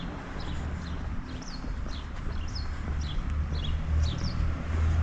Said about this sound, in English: Nice to hear the birds singing.